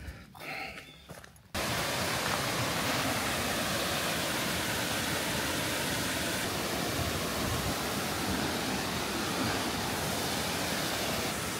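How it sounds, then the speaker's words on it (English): A waterfall of clear water in Pennsylvania roars in a loud, continuous rush of white-noise-like spray that cuts in abruptly after a quieter moment and then holds steady. "Well, we made it to the waterfall."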